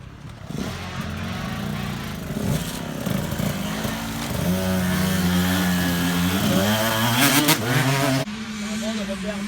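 A motorcycle makes a demonstration pass through ruts at a riding course near Reims, its engine droning steadily and rising in pitch as it accelerates, loud and close, with a voice talking over it.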